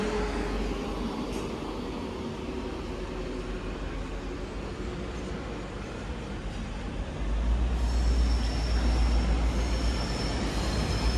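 A train rumbles steadily close by at Manchester Piccadilly station, its low roar swelling noticeably louder toward the end as it draws in to the platform.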